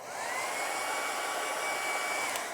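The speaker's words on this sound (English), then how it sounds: "you can see this paper starting to move with the wind force from the hairdryer" A hair dryer blows steadily and close by onto paper, a continuous airy whir with a faint high whine, running the whole time without any talking.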